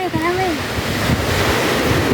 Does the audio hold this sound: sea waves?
yes